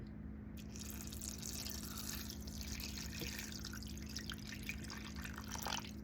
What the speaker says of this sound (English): And then we're going to add in our water